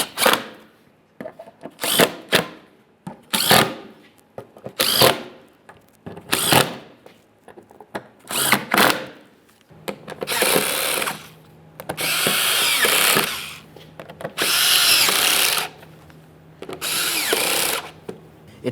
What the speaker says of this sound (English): Let's continue on tightening all the mounting bolts.